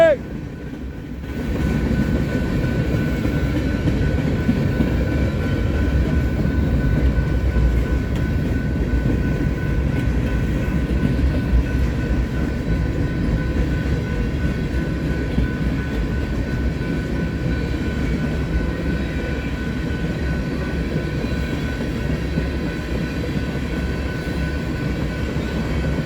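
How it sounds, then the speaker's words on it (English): Northbound freight train on the Sioux City subdivision at Fremont, Nebraska, a loud steady low rumble of passing cars that rises quickly and holds for the whole stretch. "that is the end of the northbound train on the Sioux City sub, Fremont"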